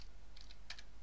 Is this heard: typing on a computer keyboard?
yes